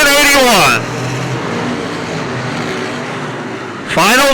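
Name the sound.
wingless sprint car racing down the front straightaway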